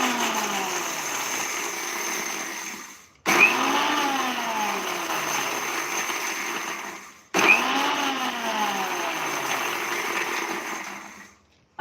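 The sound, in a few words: mixer grinder jar coarsely grinding, pulsed on and off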